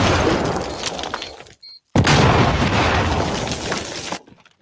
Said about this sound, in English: I would go under the explosion.